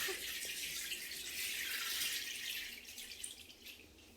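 Hot water runs from a tap into a bath with Epsom salts, a steady close splashing rush that holds evenly throughout with slight surges near the end.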